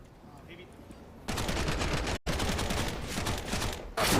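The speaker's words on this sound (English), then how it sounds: "I like the slow-mo Mac 10 sound. It sounds meaty, punchy." Slow-motion MAC-10 gunfire in Counter-Strike arrives as loud, dense bursts after a quieter start, broken by a brief gap, with a commentator's voice partly underneath.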